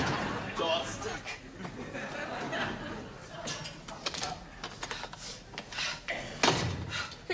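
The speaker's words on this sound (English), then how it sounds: "Door stuck." A stuck door being forced open in a comedy sketch, with repeated thumps and rattles scattered through steady audience laughter and chatter; people talk throughout.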